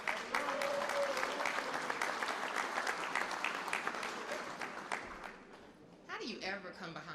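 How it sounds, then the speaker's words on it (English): Loud, dense applause and clapping from an audience at a news conference with the governor, sustained for about five seconds before tapering off as a voice begins speaking. "Clap your hands for Angela Herlock"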